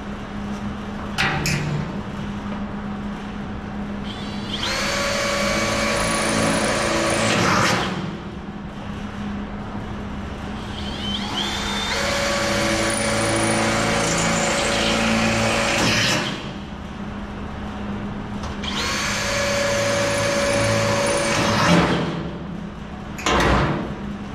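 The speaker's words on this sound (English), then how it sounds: "Drilling holes. We're drilling it." Holes drilled into the sheet metal of a Chevy truck cab during fabrication: three sustained, loud, whining drill bursts of a few seconds each, separated by quieter pauses with shop background noise.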